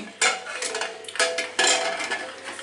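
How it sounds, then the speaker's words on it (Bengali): A pressure cooker of lentils is shut and a kitchen stove is lit, producing a few distinct metallic clanks and clatters of pot and lid in close succession, loud and near. "এখন প্রেশার কুকারটা বন্ধ করে চুলাটা জ্বালায় আমি"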